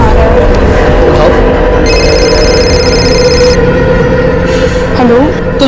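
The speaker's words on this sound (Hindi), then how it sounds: "आई का फोन आ रहा है।" A phone rings with an incoming call, a short electronic ring tone lasting a couple of seconds, set against loud, constant road or vehicle noise.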